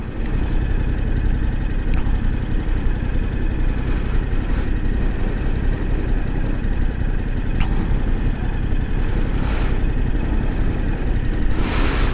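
A Yamaha R7 motorcycle ridden around town, its engine droning steadily and loudly throughout with wind rush and slight pitch shifts as it cruises, no voices.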